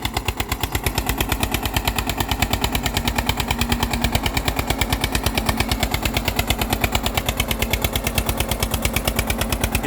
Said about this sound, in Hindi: कितनी शानदार आवाज़ है ट्रैक्टर की।